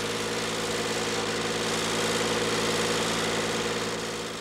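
Farm tractor engine on a Turkish farm running at a steady idle, a continuous droning hum with even mechanical throb, close and alone.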